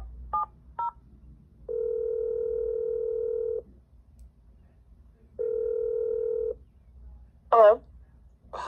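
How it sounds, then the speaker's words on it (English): Telephone keypad dialing a number: two quick DTMF beeps, then two long steady tones separated by a pause, before a brief voice near the end. "let's just make this phone call to Bella"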